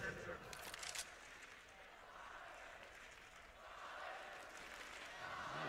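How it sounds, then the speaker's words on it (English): A large arena crowd at a CS:GO grand final between SK and Astralis in Copenhagen cheers for the home team, a steady distant roar that swells and dips, with a commentator speaking over it. "Crowd trying to cheer the home team back on track"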